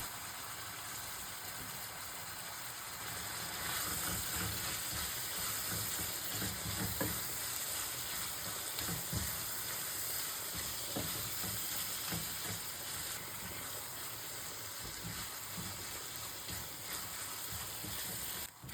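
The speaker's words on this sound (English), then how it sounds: "Keep sauteing until the meat is fully browned and that raw smell is gone." Ground beef, seasoned with salt and cinnamon, sautés in a pan as a steady, fairly quiet sizzle and hiss that runs unbroken throughout.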